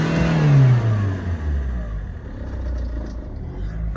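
A car engine with its MAF sensor unplugged roars loudly, revs, then falls away to a low, steady rumble close by.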